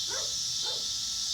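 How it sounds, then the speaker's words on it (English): A dog gives two short barks, faint and somewhat distant, beneath a loud steady high whine from a Traxxas Slash 4x4 VXL radio-controlled truck's brushless motor. "the dog's barking like crazy"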